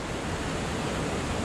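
Steady broadband rush of Spencer Creek's water at a bridgeless river crossing, a continuous close hiss and roar without pauses or talk.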